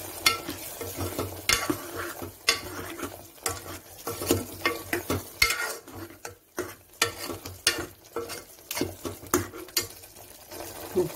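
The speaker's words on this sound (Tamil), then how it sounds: "எண்ணெய் திரிஞ்சு மிக்ஸ் பண்ணி இப்போ அரைச்சி வச்ச பேஸ்ட் போட்டுக்கலாம்" Ground ginger-garlic spice paste hits hot oil for a country-chicken biryani, sizzling steadily while a spoon stirs and scrapes the pan in irregular clinking strokes, close and fairly loud with no talking.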